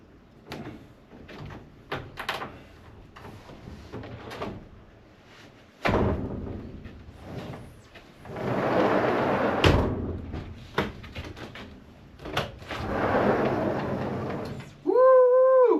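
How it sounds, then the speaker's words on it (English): A sliding door going into a framed wall of an off-grid tiny home under construction in Hawaii, heard as scattered knocks, thuds and scraping handling noises, a couple of louder bangs, and a longer rumbling slide, with a short shout near the end. "We'll throw that slider in place."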